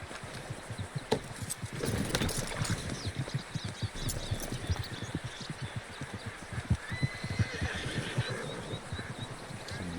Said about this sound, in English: Some wild horses.